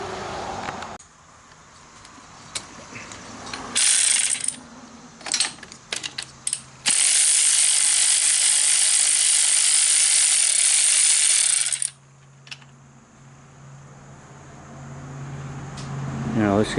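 A ratchet clicks repeatedly as a spark plug is backed out of a Ryobi pressure washer engine, with short bursts of rapid pawl chatter and a long sustained run of ratcheting, close and loud, amid occasional talk.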